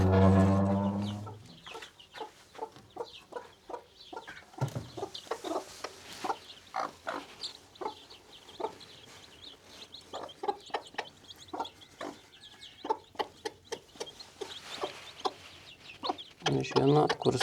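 A farmyard chicken clucks in a long run of short, repeated calls, fairly close and steady, with a brief low rumble at the start and faint farm background throughout.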